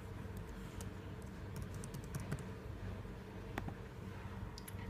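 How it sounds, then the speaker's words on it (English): An email address being typed on a computer keyboard, with quiet, scattered key clicks in short irregular runs over a low steady background hum. "I'll type it."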